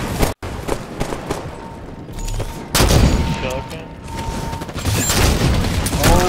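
Halo 5: Guardians multiplayer match with rapid bursts of gunfire, booms and sharp weapon shots layered over game effects and beeps, loud and dense throughout.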